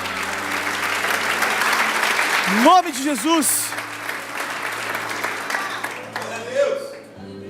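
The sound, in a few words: congregation applause in church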